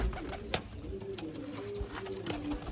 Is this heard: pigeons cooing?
yes